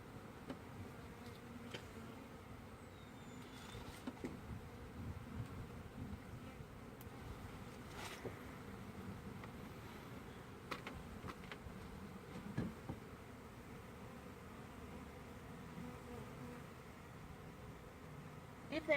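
A steady, low hum of many honeybees buzzing during a hive removal fills the air, faint and continuous, with occasional small clicks and rustles.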